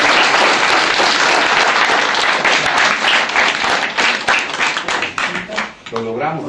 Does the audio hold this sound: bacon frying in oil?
no